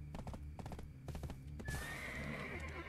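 Horse in Black Desert Online whinnies sharply after a quick run of clopping hooves, the neigh rising clearly above the rhythmic footfalls, fairly close and alone without talk.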